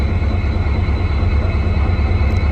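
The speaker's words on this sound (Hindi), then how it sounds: "आज अपनी ट्रेन में लोकोमोटिव लगा है WDP 4B का" Intercity express train from Shri Ganga Nagar to Ambala Cantt hauled by a WDP 4B diesel locomotive, a steady low rumbling drone with constant rolling noise heard from on board, no voices.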